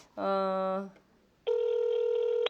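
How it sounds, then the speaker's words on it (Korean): A phone call being placed, with two ringback tones in a row: a buzzy tone, a short pause, then a cleaner steady tone, both loud and close. "예, 유은혜 후보에게 전화를 해보도록 하겠습니다"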